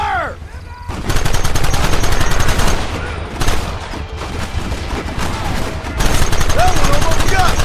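Rapid gunfire from the video game Red Dead Redemption, dense rattling volleys and sharp cracks in sustained bursts with brief lulls, loud and close, with a voice shouting orders early on.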